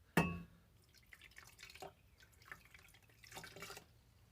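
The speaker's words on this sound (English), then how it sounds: "I'm going to have to get a little water to wash that duckweed off my hands." A little water running and splashing while duckweed is washed off hands: a sharp knock at the start, then faint, scattered drips and splashes in a quiet room.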